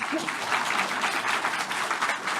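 An audience at a Buddhist teaching session on the Surangama Sutra applauds, a steady, close round of clapping that lasts the whole moment.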